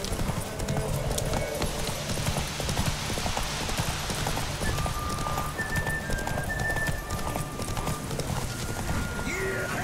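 Roach the horse in The Witcher 3 gallops with a steady, rapid clip-clop of hooves and a brief whinny, backed by game music and ambience, while a voice speaks over the ride.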